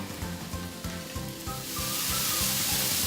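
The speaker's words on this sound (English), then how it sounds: "So first I'm gonna put all the vegetables in the skillet." Vegetables sizzle steadily in a hot skillet, with a bright crackling hiss and soft scraping knocks from stirring, the frying growing louder and more continuous toward the end.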